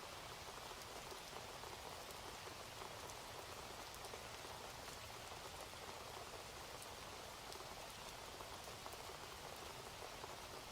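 Steady rain falls on a surface with an even, unbroken hiss and patter, soft and constant throughout with no pauses.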